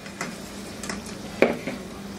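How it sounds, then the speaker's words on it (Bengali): Potatoes browning in oil in a saucepan over high heat, a soft sizzle broken by a few stirring scrapes and one sharp utensil clink. "এগুলা একটু বাদামি করে ভেজে নিতে হবে। আমি হাই হিটে ভাজতেছি।"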